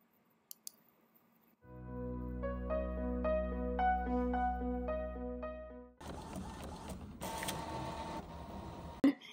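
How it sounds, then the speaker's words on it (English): A home printer runs a print-and-cut sheet with registration marks: a few faint clicks, then a steady motor whir with rhythmic tonal stepping as the page feeds, followed by a rougher mechanical rattle and a final sharp clunk. "I'm going to go ahead and send it to my printer."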